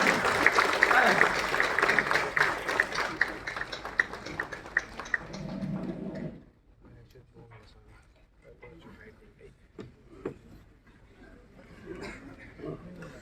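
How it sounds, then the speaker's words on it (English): Loud applause from a large audience at a formal gathering celebrating Srinagar as World Craft City, dense clapping for about six seconds before dropping off abruptly into scattered claps, room noise and faint voices. "Honor, sir, with a huge round of applause and a standing ovation"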